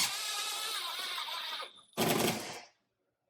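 Cordless power drill driving screws into plastic drywall anchors while wall-mounting a Tesla SAE J3400 charging cable organizer; two close, loud bursts of whirring motor and grinding screw, a long run then a shorter one after a brief pause.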